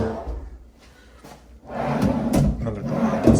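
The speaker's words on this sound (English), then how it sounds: "Another drawer on this side." A drawer in a remodeled hotel room vanity at a Disney resort slides open and shut with wooden knocks and rubbing, close by, rising in loudness toward the end.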